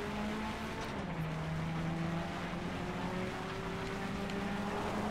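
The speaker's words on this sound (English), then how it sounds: "It's backfiring!" Souped-up car engine in FlatOut: Ultimate Carnage droning steadily throughout, a continuous loud racing-game motor hum with shifting pitch, no talk over it.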